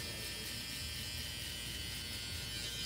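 Electric hair clippers cut hair close during a barbershop fade, giving a steady, continuous buzzing drone that holds at an even level throughout, close by, with no talking.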